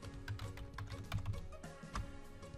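Rapid, uneven typing on a computer keyboard, a close run of clicking keystrokes with no voices, as a material name is entered into a CAD search field.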